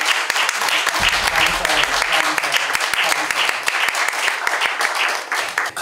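Church congregation applauding during an installation thanksgiving service for a new seminary president, a dense, steady wash of many hands clapping close by for several seconds, with a voice briefly speaking over it early on.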